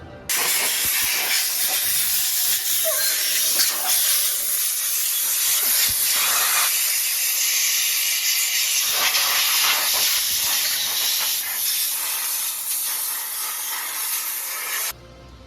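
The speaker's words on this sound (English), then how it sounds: "Brake clean the journals are real good. Brake clean everything really." Brake cleaner sprays onto the main journals of an engine crankshaft, a loud continuous close-up hiss that holds for several seconds, eases slightly midway, then cuts off sharply at the end.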